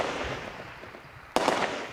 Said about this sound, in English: They still live with the gunfire, but now it's outgoing.